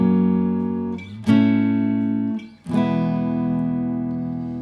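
Electric guitar strums a song's chorus as sustained chords, three struck changes ringing out in a slow, steady pattern, close and clear with no voice.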